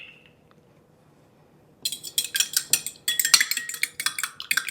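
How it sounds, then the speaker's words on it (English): An egg cracked and then lightly beaten in a bowl for homemade chicken and dumplings: after a quiet start, a rapid, steady series of close clinking whisks of utensil against the bowl. "I'm going to crack this egg, and we are going to lightly beaten it"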